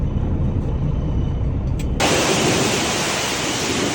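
An automatic car wash cleans a pickup truck: a low rumbling wash gives way to a sudden loud, steady hiss of spraying water that continues to the end.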